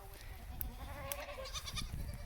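Goats bleat repeatedly in a barn set in an old farmhouse at feeding time, several overlapping calls rising over a steady background of shuffling and eating noise, fairly close.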